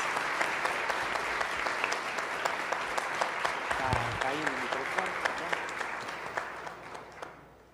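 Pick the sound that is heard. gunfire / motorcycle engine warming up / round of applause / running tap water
round of applause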